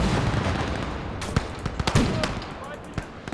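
Heavy mortar fire in a World War II video game battle at Operation Zitadelle: a rumbling, noisy barrage with several sharp blasts and thuds scattered over a few seconds, fairly loud against a constant wash of battle noise.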